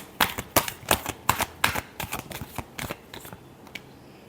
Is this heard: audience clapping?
no